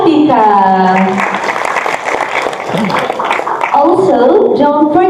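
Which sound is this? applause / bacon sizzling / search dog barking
applause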